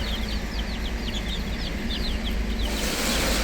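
Chickens cluck and chirp in a steady stream of short calls close by, over a constant low rumble, with a broader hiss rising near the end.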